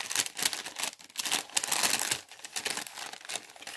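A handmade paper pouch crinkles and rustles close by as it is handled, in uneven bursts of crackly noise with brief pauses.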